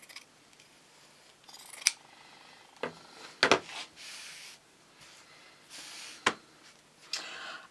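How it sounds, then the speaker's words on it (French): Scissors cutting through quilted patchwork blocks with batting along a marked line, a series of distinct crisp snips spaced out by pauses, some sharper and louder than others, with no talking. "je le marque et ensuite je viens couper sur ma marque"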